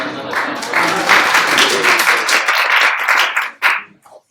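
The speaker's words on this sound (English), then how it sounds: "Let's clap for her." Studio audience applauding a contestant at a grand finale weight-gain competition show, a dense sustained burst of clapping that fades out near the end.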